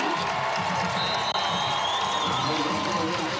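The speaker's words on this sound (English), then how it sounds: "this crowd's excited as well" Early-arriving crowd at a high school football game between Prattville and Baker cheering and shouting continuously, a dense, loud roar of voices with whoops throughout.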